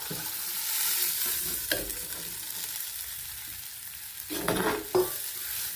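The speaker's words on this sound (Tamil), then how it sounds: "இந்த மாதிரி வதங்கின உடனே குழம்பு ஊற்றிடுங்க." Continuous sizzling of sautéed ingredients in a hot pan with occasional stirring scrapes, and a louder hiss burst as curry liquid is poured in near the end.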